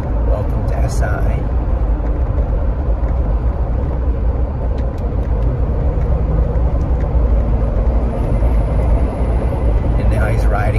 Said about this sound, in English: This person is coming up on my right, accelerating hard because he saw me changing lanes